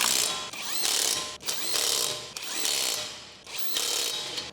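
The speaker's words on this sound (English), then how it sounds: "Let's use the 19mm socket with the impact wrench to tighten the lug nuts." Impact wrench with a 19mm socket tightening lug nuts on the front wheel of a 2012-2015 Chevrolet Cruze, four loud bursts of rattling hammering, each about a second long with short pauses between, close and alone.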